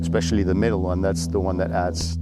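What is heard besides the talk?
None of the usual background noises is heard.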